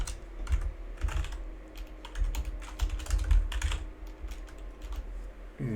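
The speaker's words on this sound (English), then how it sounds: "With some loud typing, I know" Fast, loud clacking on a computer keyboard, up close, comes in uneven bursts of keystrokes with brief pauses and thumps from heavier key presses.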